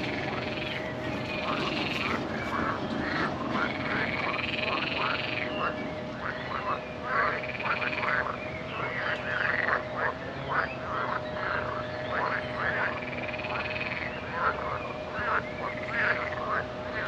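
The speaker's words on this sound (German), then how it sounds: "Es gibt noch ein kleines Froschkonzert." A chorus of frogs croaks on a spring day in the Polish countryside near Kruszwica and Strzelno, with many repeated calls layered over each other in a dense, continuous pulsing din, fairly loud and with no voices.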